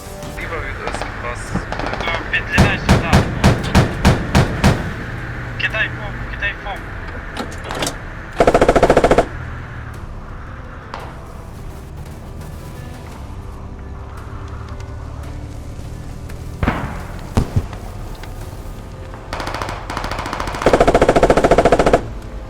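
A remote-operated machine gun fires in the Squad video game, with a fast, loud burst of rapid shots early on, then scattered heavier bangs and blasts over a rumbling battlefield background.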